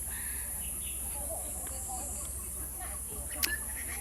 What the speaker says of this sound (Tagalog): As you can hear, madaming ibon.